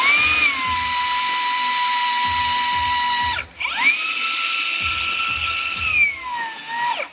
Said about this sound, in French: je vais enclencher la machine et donc le galet là va tourner autour des fers et va cintrer